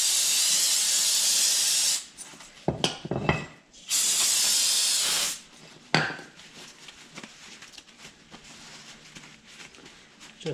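Bursts of hissing spray cleaner hit crusty brake rotors during a Ford Fiesta front wheel bearing and brake pad job, in long loud blasts broken by short gaps, with clanks and rustling handling noises after.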